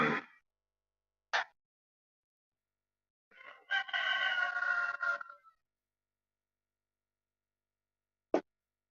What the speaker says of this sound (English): Rooster's saying, let me out.